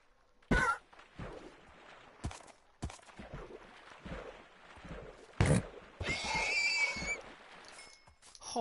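Horse in Minecraft struck and slain, sharp hit sounds spaced irregularly followed by a drawn-out whinny near the end, close and fairly loud with no talk.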